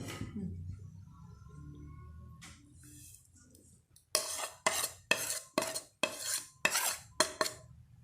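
A spoon stirs chapli kabab mixture in a bowl, giving a series of about eight quick, rhythmic scraping clinks after a quiet stretch of faint background noise.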